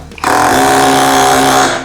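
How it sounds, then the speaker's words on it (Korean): A SKIL PWR CORE 12 cordless auto hammer drives a nail in one sustained loud, close buzzing burst of rapid impacts lasting over a second, starting abruptly after a brief quiet lead-in. "심하게 제가 눌렀더니 못이 안으로 쑥 들어갈 정도로 강하게 박힙니다"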